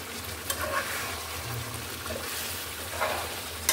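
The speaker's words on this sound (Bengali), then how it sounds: "এটা ভালো করে কষিয়ে নিতে হবে।" Duck meat with coconut sautéing in a pan, with a continuous moderate sizzle and occasional stirring clinks and scrapes.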